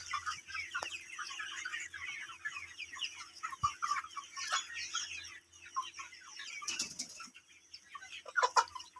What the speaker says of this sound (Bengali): দেখেন কত সুন্দর করে খাচ্ছে মুরগিগুলো